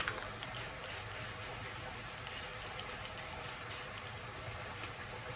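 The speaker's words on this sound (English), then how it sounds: "So spray some purple just in a little pile." Short bursts of purple spray paint hiss from an aerosol can, several quick squirts in an uneven rhythm, close by over a faint low background hum.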